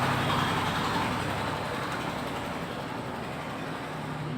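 Broadband engine roar of a noisy vehicle passing outside, loud at first and easing slightly as it goes, steady rumble with no voices over it.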